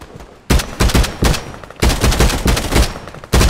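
Gunfire in the VR shooter Contractors Showdown, a Warzone-style mode: loud, close bursts of rapid automatic shots in several volleys separated by short pauses.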